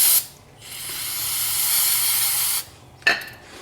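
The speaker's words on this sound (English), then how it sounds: "So now just hit these with some brake cleaner." Brake cleaner sprays onto front brake parts of a 2005 Ford F-250 Super Duty in two loud hissing bursts, a long steady one and then a short sharp one, with quiet gaps around them.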